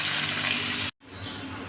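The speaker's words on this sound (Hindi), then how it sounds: "2 गिलास पानी डालकर हम गोश्त को गलने के लिए छोड़ देंगे।" Two glasses of water poured into beef frying in a pot for dum biryani, a steady gushing hiss cut off abruptly, then a softer continuing simmer.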